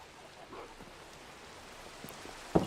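Steady, faint rain falls in the Minecraft world, a soft continuous hiss with a sharp click near the end.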